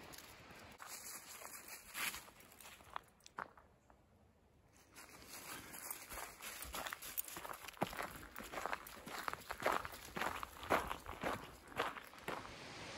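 Footsteps hiking up a gravel road trail past properties, a steady close crunching rhythm that pauses briefly, then resumes slightly louder, with faint rustling of clothing.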